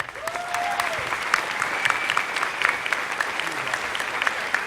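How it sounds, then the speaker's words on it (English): An audience at a live fan convention show applauding steadily throughout, a dense patter of many hands clapping, with a faint whistle early on. "So another round of applause for them, please."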